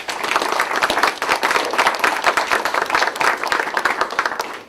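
An audience at an affordable housing forum applauds Speaker Shurtleff, a dense, sustained round of many hands clapping at a steady level for several seconds.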